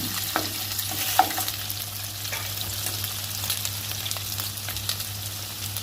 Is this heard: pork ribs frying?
yes